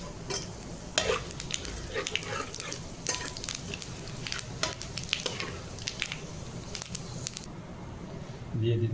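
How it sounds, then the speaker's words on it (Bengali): Cumin, five-spice and three dry chillies dropped into leftover fish-frying oil, crackling and sizzling loudly up close with stirring and scraping in the pan, while someone speaks over it. "এখন আমি মাছ ভাজার তেলে দিয়ে দিচ্ছি জিরে আর হলো 5 ফোড়ন, সঙ্গে দিয়ে দিচ্ছি 3টা"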